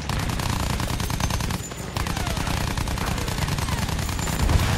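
Loud, relentless machine gun fire from a warplane in Battlefield 1, a dense rattling stream with a brief dip partway through before the barrage resumes over engine drone.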